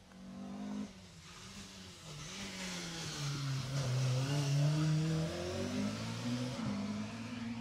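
An orange Ford Escort Mark II rally car, number 44, accelerates on a Jersey Rally stage, its engine note climbing and sliding through revs at a moderate distance, fairly faint and alone.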